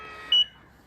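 One short, sharp electronic beep from a Hansshow power trunk fitted to a Tesla Model 3, a clear isolated chirp over quiet background noise.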